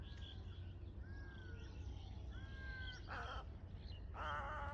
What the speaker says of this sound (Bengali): চারিধারে শুধু নানা ধরনের পাখির আওয়াজ, কোনো ব্যাকগ্রাউন্ডে আর কোনো মিউজিক নেই